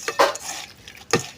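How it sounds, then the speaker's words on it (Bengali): Food being kneaded and mixed by hand with oil, lentils worked together before jackfruit seeds go in, giving soft squelching pats with a few sharper clinks of a dish or utensil, close and fairly quiet. "তেল দেওয়ার পরে এখন হাতে সুন্দর করে মাখবো"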